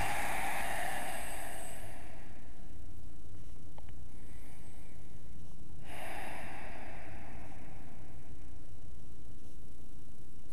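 Slow, soft breaths during the final resting pose (Shavasana) at the end of a strong yoga flow class: a breathy exhale in the first two seconds, a quiet gap, then another airy breath, all close and gentle.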